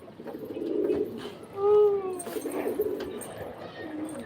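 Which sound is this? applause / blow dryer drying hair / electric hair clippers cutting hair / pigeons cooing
pigeons cooing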